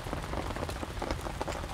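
Steady heavy rain pattering on surfaces during a rainstorm at a fishing spot on a river, a dense, continuous hiss of drops with no voices.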